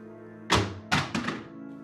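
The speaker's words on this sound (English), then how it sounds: "Either toss down your gun, come down here so I can arrest you" A gun tossed down onto a floor in a tense standoff lands with a solid thunk and a couple of quick bouncing knocks, close and alone against a quiet room.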